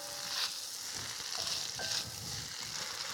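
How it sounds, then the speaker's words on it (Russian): Shrimp noodles with vegetables stirred in a pan, a soft continuous sizzle with gentle swells of tossing and scraping, close but quiet, no speech. "последний раз я перемешиваю"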